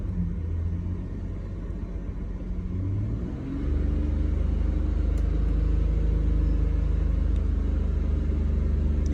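A BMW E46 engine runs steadily after a cold start, a deep close rumble whose pitch drops and settles into a smooth, louder idle partway through.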